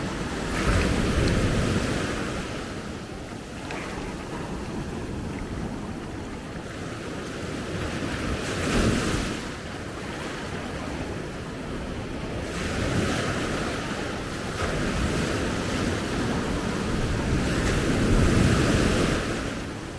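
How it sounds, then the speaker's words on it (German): Atlantic surf splashing against a rocky edge at Maspalomas, Gran Canaria, during a passing Atlantic storm, with steady strong wind. Loud surges of water crash in repeatedly, roughly every few seconds, over a constant roar of wind buffeting the microphone. "Und wenn das Wasser da ranklatscht"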